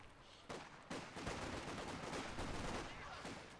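Rifle and assault rifle fire from Lee Enfields, KARs and STGs in Company of Heroes 2, dense overlapping gunshots crackling continuously at moderate distance, fairly quiet.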